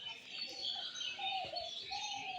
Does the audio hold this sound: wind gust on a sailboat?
no